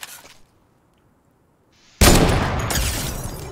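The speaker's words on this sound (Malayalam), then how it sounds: "നമ്മള് വെടി വെച്ചാര്" Sudden loud burst of rapid gunfire in the zombie shooter game World War Z erupts after a near-silent pause and keeps roaring, preceded by a brief faint sound.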